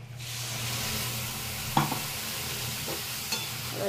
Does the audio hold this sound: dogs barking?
no